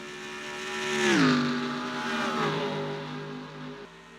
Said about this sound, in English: You see, engine's conked out, and he tours into the pit lane.